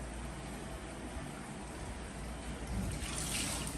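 Water runs in a steady, soft hiss as conditioner is rinsed out of a Rough Collie's coat during a bath, with a slight surge near the end.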